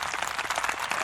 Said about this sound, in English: that's the same clap track that the Studio 10 in Australia that they use